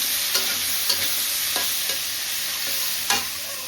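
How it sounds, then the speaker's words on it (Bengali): Taro pieces fry in a pan as prep for a fish curry, giving a steady close hiss of oil with a few soft scrapes of stirring and no talk. "মাছের জন্য মুখিগুলো একটু ভাজতেছি"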